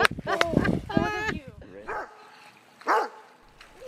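A dog barks and yips at a kangaroo standing in water, in several sharp barks and whimpers, near and loud, with people talking excitedly at the same time.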